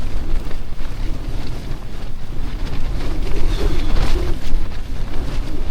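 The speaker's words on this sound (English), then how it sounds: "Wind's definitely blowing from the south." Strong wind roars and buffets against a tent at a winter wild camp by Angle Tarn in the Lake District, a loud continuous rumble with gusty surges and no voices.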